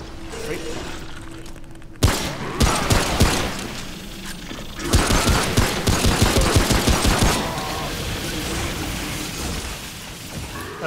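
Pistol gunfire in the video game Remnant: From the Ashes, a run of rapid loud shots and mechanical clatter, mostly in two bursts, with a voice talking between.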